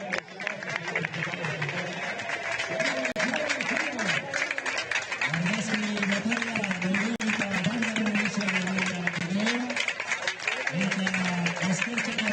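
Spectators applaud at the finish line of the 81st Circuito de Getxo cycling race, the Otxoa brothers memorial, a steady crackling wash heard throughout beneath a commentator speaking.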